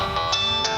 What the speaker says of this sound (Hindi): मुझे अचानक से रश्मि का फ़ोन आया।